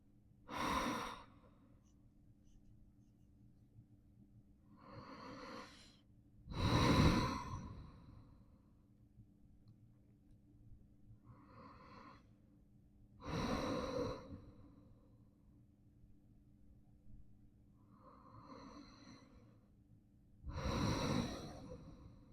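Slow, deep breaths during a yoga forward fold, heard close and alone as a long inhale and exhale about every seven seconds, some sharper and heavier than others.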